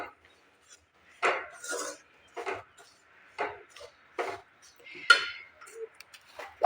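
A spoon scrapes and clinks against a pot in short, scattered metallic taps and rubs as a dry ground spice mix is stirred into lemon pickle without oil or water, with quiet pauses between.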